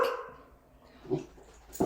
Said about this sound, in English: we've got dogs in the classroom and in the area. Must have spotted something. So if you hear a bark, it's our classroom dog